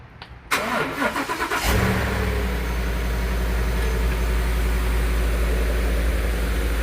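A car engine cranks and fires up after do-it-yourself wiring work, settling into a steady, loud idle that holds to the end.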